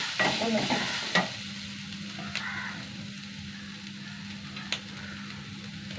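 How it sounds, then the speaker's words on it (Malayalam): Grated coconut roasts in a clay pot over a fire, giving a soft, steady sizzle with scraping stirs and a few sharp clicks, close and clear without any talking. "തേങ്ങ വറുത്തെടുക്കാം തേങ്ങ"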